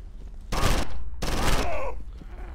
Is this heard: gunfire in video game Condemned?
yes